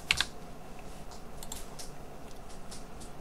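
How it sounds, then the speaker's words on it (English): Keystrokes on a computer keyboard while working in Tinkercad: a sharp double click near the start, then light scattered taps over a steady background hiss. "Or I can just click on the point and then I can type in how big I want it to be."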